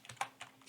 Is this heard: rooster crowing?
no